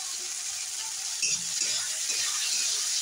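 Chopped tomatoes hit hot oil in a home pan and fry with a steady, bright sizzle, close and continuous, with a brief stirring clatter partway through and no talking.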